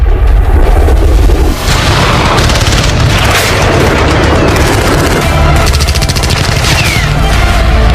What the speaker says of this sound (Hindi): Multi barrel rocket launcher, artillery यानी तोप।